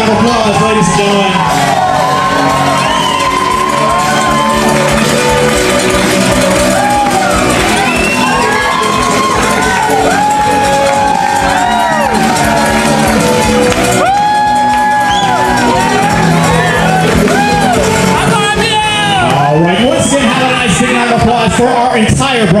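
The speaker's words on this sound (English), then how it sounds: "let's give them a nice big round of applause" Wedding guests cheer, whoop and shout together in a loud, sustained crowd roar for the bride and groom at Look Park in Florence, Massachusetts, with the noise continuous throughout and swelling near the end.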